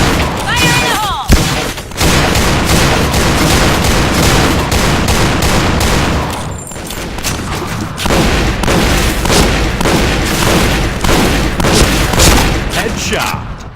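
Rapid, loud shotgun blasts and a booming grenade explosion fill a Point Blank match on the Burning Hall map in shotgun mode, with dense overlapping gunfire throughout and game voice callouts mixed in.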